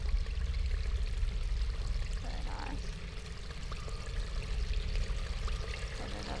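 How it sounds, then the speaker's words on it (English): Water flows and trickles steadily inside a house in a video game, a soft continuous wash with faint splashy detail and no voices. "Listen to the water."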